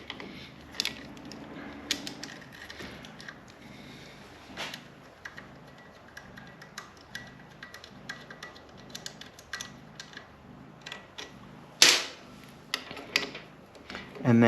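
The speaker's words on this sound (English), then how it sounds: "Now you got another two 10mm bolts on the regulator itself." A wrench works two 10mm bolts loose on the regulator of a Kawasaki Vulcan 900 motorcycle, with faint, close, irregular metallic clicks and taps over a quiet background, ending in a couple of sharper knocks.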